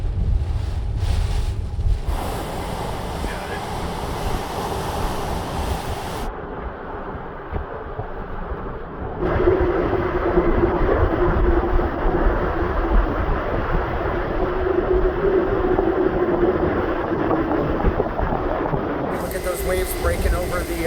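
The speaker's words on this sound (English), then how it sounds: "Backside of Hurricane Ian is relentless. It is just pounding Punta Gorda" Backside of Hurricane Ian battering Punta Gorda at dusk: loud, relentless roaring wind buffeting the microphone with crashing waves and surge noise, sustained throughout with shifting intensity.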